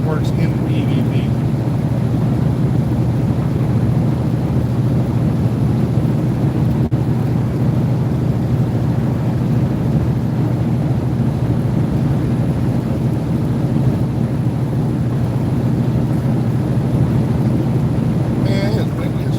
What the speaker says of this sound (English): Man, it's windy as fuck up here.